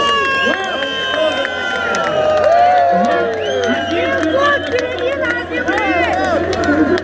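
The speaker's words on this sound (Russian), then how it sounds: "Иркутску аплодисменты!" A large crowd at a bandy final in Irkutsk, Russia, cheers and whoops continuously with scattered applause, voices rising and falling in a lively, echoing roar.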